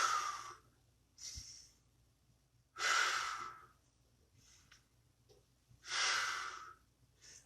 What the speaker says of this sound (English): Keep breathing into it.